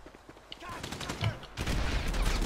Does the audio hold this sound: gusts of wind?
no